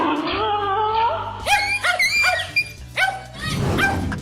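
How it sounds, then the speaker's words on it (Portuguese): A dog confronting an iguana barks and then breaks into high yips and whimpers as it flees. The sounds come in loud, close, rapid bursts that trail off into rustling. "A iguana não teve muita paciência e decidiu mostrar ao cachorro para quem não era para latir."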